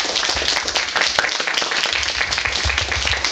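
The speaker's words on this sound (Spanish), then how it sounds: "Les pido un aplauso para mi buen amigo Beto Calvo, por favor." Audience applause at a comic book convention panel, a lively room of people clapping with sharp individual claps standing out over the steady wash.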